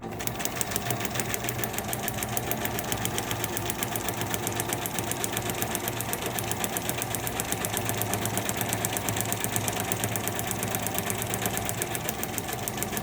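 A sewing machine stitches through paper in a fast, even mechanical chatter, close and steady throughout with no talk.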